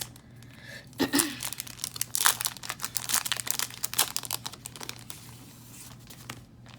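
Planner sticker sheets crinkle and rustle as stickers are peeled off, close and quiet, with a string of irregular crackles and soft tearing sounds over a faint steady hum.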